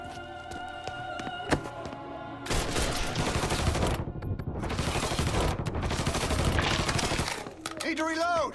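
Sustained bursts of gunfire in the Mafia 3 video game, with a brief shot followed by heavy, continuous firing exchanges that pause and resume, loud and close, with voices over the shooting near the end.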